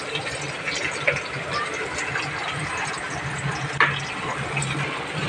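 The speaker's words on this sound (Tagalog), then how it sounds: "At ilagay na natin yung sarsa ng ating sardinas" Sardine sauce poured into a pan while cooking sautéed pechay, a steady liquid splash and sizzle running throughout with a couple of brief clinks.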